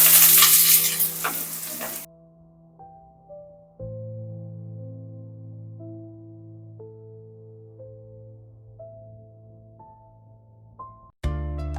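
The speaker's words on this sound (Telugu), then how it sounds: "తాలింపు చేసుకుందాం" Loud, crackling sizzle of tempering spices hitting hot oil for a fish curry for a couple of seconds, then soft background music, with a brief burst of sizzling returning at the end.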